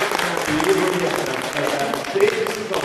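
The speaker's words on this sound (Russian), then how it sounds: "Я приветствую петербургскими аплодисментами." Audience applauding in a hall, dense steady clapping from a large crowd for a few seconds while a voice speaks over it.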